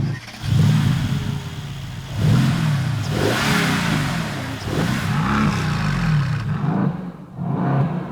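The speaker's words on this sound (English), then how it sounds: "With two turbochargers force-feeding the 4-litre V8, it pumps out 503 horsepower" A 2016 Mercedes-AMG GT S twin-turbocharged 4-litre V8 revs repeatedly, rising and falling in loud surges with a deep, throaty exhaust note, close by.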